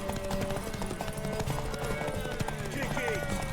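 Rapid hoofbeats of a horse galloping in The Witcher 3: Blood and Wine, continuous and near, with snorts or a whinny, under people talking and dense background sound.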